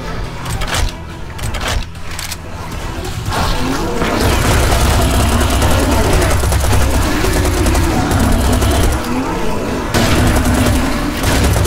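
Auto shotgun blasting in Serious Sam, a few sharp booming shots at first, then a loud, nearly continuous barrage of gunfire and explosions with no pause.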